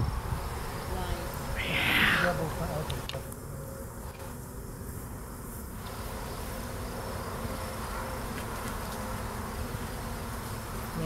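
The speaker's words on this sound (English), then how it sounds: "I just kneeled on a bee." A honeybee swarm buzzes steadily around a small pine tree during a swarm capture, a dense continuous drone close by with brief voices speaking over it.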